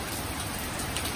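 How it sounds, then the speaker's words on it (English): Heavy monsoon rain in Poona blowing sideways past swaying coconut trees onto a drenched terrace: a steady, dense hiss of downpour, loud and unbroken throughout. "The rain coming down sideways."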